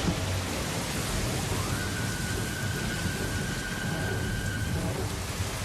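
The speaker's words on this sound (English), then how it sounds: "Could be raining." Steady, dense rain pours down with the broad rumble of a thunderstorm, loud and continuous throughout, with a faint thin tone running through the middle.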